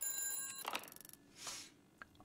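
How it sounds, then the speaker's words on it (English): A telephone rings in a horror video game, a bright bell-like trill that rises and fades over a steady electronic hum, with no voices. "Let's answer the phone."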